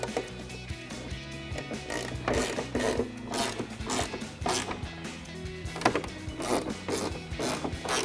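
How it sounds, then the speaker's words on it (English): A ratcheting wrench tightening rear spoiler bolts on a 2024-2026 Ford Mustang Fastback, rapid rhythmic clicking in repeated bursts, close and clear with no talk. "I'm gonna tighten those down with the same ratcheting wrench"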